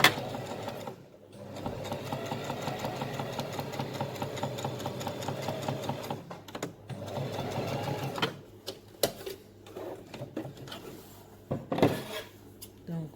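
A sewing machine runs at steady speed stitching a narrow edge seam about a millimetre from the edge of a fabric hair accessory, its whirring hum continuing for several seconds, pausing and restarting with a few clicks, quiet and close.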